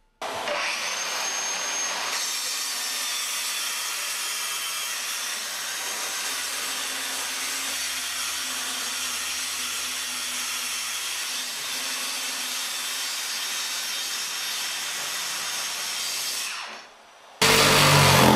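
A Bosch GKT 18V-52 GC cordless plunge saw cuts a sink opening into a wooden kitchen worktop, a loud, steady high-pitched whine with a gritty cutting edge that runs without a break for about sixteen seconds and then stops abruptly.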